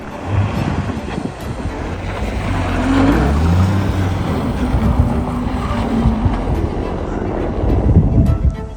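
A repaired C6 Corvette rolls along a snowy road, a steady low engine drone mixed with tyre rumble and wind buffeting, continuous and fairly loud throughout.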